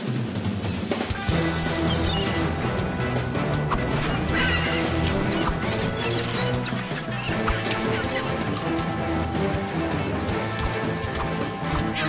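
A dense, loud chorus of seagull squawks and honking calls in a cartoon, overlapping continuously, with a busy, chaotic crowd of birds close by.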